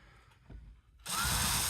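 A DeWalt drill whirs up suddenly and runs loud and close for under a second, driving a screw while a mini split cover is put back together, after a few quiet clicks and handling sounds.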